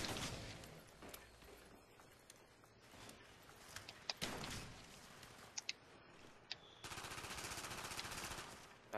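Gunfire rattles in Call of Duty Zombies with repeated automatic bursts and sharp single cracks, quiet and somewhat distant, ending in a steady sustained rapid stream of shots.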